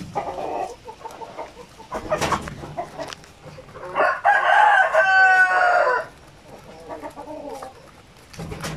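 Chickens cluck close by at feeding time, and a rooster crows loudly in the middle before the clucking resumes.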